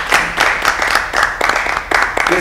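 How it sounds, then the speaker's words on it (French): Loud audience applause at a celebration concert marking a singer's 16 years of solo career, dense clapping in repeated bursts that swell and ebb, with no speech over it. "on applaudit très fort"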